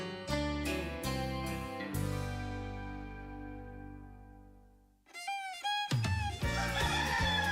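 A rooster crows during a WHBN radio station jingle, its rising call breaking in loud and close after several seconds of sustained musical chords, alone with no talk.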